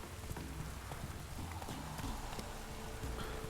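Geralt's horse Roach gallops in the video game Witcher 3, with steady, rhythmic clip-clop hoofbeats that are close and continuous from start to finish.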